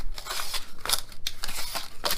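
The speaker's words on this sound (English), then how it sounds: "Man with knife. Cutting crazily." A knife slicing through a dashboard coverlay on a Nissan S14 240SX, with several quick rasping cuts and scrapes in an irregular rhythm, close up and fairly loud.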